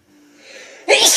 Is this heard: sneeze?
yes